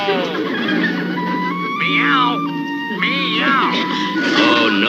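A voice imitates a cat, drawing out two wavering meows with rising and falling pitch over a steady amplified background hum.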